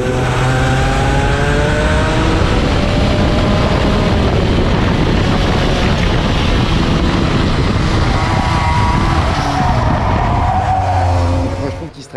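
Motorcycles run nearby at a karting track, a loud continuous engine roar with rising and falling revving tones that fills the whole stretch before fading out at the very end.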